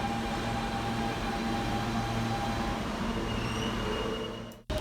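A New York City subway 7 train rumbles steadily along the track with a low mechanical drone and faint high whine, no voices, before the noise drops out abruptly near the end.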